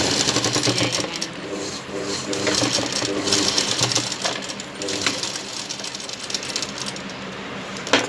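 A sewing machine runs steadily up close, stitching a waistband onto a lehenga with a continuous rapid mechanical chatter that holds even throughout, ending in a small click.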